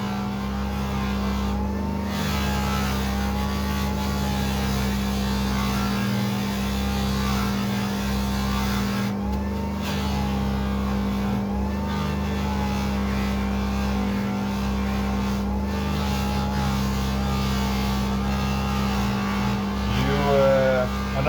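A motorized buffing wheel polishes an estate tobacco pipe with a fine soft wheel, a steady loud electric hum and whir running continuously, with faint rubbing variations and a voice speaking over it.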